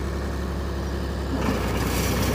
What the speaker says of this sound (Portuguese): Ó, acelerou mais um pouco o trator.